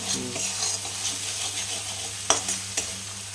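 Spice masala sautéing for chickpea ghugni, a steady close frying sizzle with stirring scrapes and a couple of sharp utensil knocks near the end, no talk.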